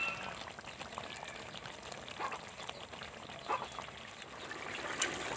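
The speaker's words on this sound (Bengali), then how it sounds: "এখন আমি আরেকটা কড়াইতে ঢেলে নিয়েছি" Spicy chicken roast is poured from one wok into another in a home kitchen, giving a soft, wet trickling and sliding sound with a few light scrapes, fairly quiet and without talk.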